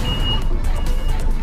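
Heavy traffic on a busy Taipei street full of buses, with a steady low rumble of engines and a faint high beep near the start.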